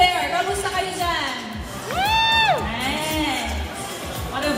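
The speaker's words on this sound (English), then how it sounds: "What a very participative crowd." Crowd at a press presentation cheering, whooping and shouting in a large hall, sustained and lively with a rising call in the middle and a voice over the noise.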